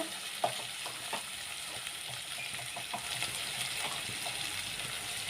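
Browned masala frying in a pan as spices such as chili are added for an aloo and dried pea sabzi, with a soft steady sizzle and a few light stirring clinks, faint and close, with no voices.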